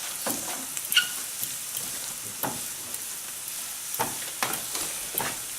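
Onions and garlic sautéing in a pan, a soft continuous sizzle with occasional brighter crackles and stirring scrapes, close and quiet with no talk.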